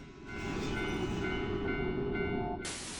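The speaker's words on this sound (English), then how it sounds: "a train full of skeletons speeds by" A phantom train packed with skeletons rushes past in the horror game Tsugunohi, a loud, sustained rumbling roar with droning tonal hums that holds steady, then shifts abruptly near the end.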